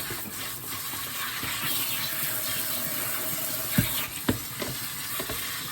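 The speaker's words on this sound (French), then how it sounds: "Chaque petite partie, vous voyez, je le passe bien à l'eau claire." Water running over small pieces of cauliflower mushroom (Sparassis crispa) as they are rinsed by hand, a steady close hiss with a few brief knocks and splashes near the end.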